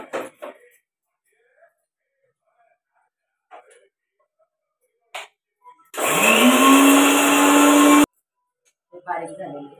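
A mixer grinder whirs loudly for about two seconds as it grinds cumin seeds and garlic, spinning up to a steady high whine and cutting off abruptly, with brief clicks and handling noises around it.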